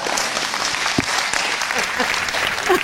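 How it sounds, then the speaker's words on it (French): An audience at a French-language broadcaster's season launch event applauds a minister, a steady mass of clapping that runs throughout, with a voice speaking faintly underneath. "est-ce qu'on peut encore applaudir Monsieur le ministre, s'il vous plaît"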